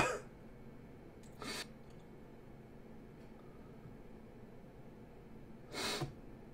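Two or three short sniffs through the nose, spaced several seconds apart, close to the microphone in an otherwise quiet room.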